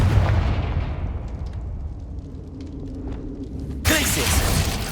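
Confringo fire spell in the Hogwarts Legacy video game, a loud continuous roar of fiery blasts and booming impacts, with a sharp fresh burst near the end; a voice speaks over it.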